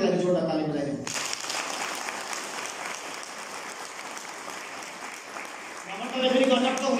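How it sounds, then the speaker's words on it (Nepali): A church congregation bursts into loud, sustained clapping for the children's worship team, a dense wash of applause that follows a moment of talking and fades as speech returns. "यिनीहरूको लागि जोरदार ताली बजाइदिनु"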